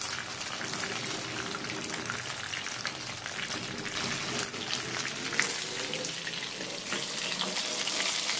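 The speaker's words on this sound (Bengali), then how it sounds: "ডুবো তেলে মাংসটা ভালো করে ভেজে নেব।" Chicken pieces frying in deep oil over high heat, a dense, even sizzle and crackle of bubbling oil that holds steady throughout at moderate volume.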